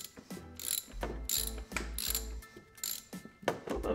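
Ratchet wrench working the oil filter cap on a 2007–2013 Mini Cooper S, with bursts of rapid pawl clicking and heavier mechanical clunks in short uneven strokes, close and with no talking.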